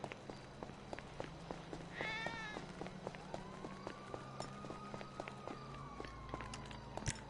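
A cat running fast across a floor, with quick patters of footsteps and a brief meow, plus a long rising-falling whine in the background; a man can be heard faintly at points.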